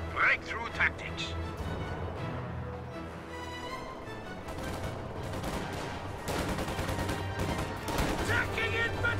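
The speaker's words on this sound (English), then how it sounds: "Taking infantry fire!" Infantry gunfire crackles in the World War II strategy game Company of Heroes 2, as scattered rifle and machine-gun bursts at mid distance mixed with battle noise, with game voices talking over parts of it.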